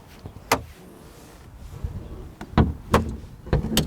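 The front trunk of a Porsche Boxster GTS 4.0 is opened by touching the key near the logo, giving a few sharp latch clicks and a soft thump of the lid close by in a quiet setting.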